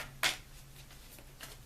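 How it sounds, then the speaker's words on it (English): Tarot cards being shuffled by hand, a quiet crisp riffle burst followed by softer papery rustles and a second faint flutter, close and without talk. "I'm going to shuffle"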